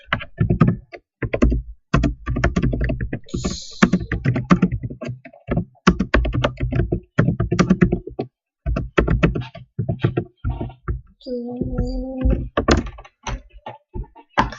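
Fast, close typing on a computer keyboard during an Agar.io game session, with steady bursts of clacking keystrokes and brief pauses, plus a couple of short game tones.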